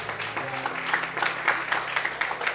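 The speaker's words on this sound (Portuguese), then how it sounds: "Quantos podem levantar a mão para o céu, aplaudir o Senhor e exaltar ao nome dele nesta noite?" A church congregation applauds during an evening service, a steady wash of clapping with irregular swells, and sustained low tones, probably music, run underneath.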